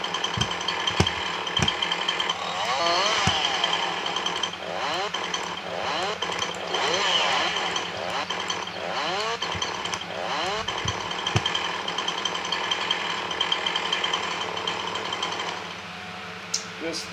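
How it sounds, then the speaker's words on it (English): A loud lawn mower cuts grass outside, its engine droning steadily throughout with whining pitch sweeps as it works, while a person talks over it intermittently. "They're cutting the grass outside."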